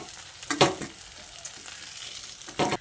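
Jackfruit seed fritters sizzle in hot oil with a steady crackling hiss, broken by a couple of louder scraping stirs as pieces are lifted out.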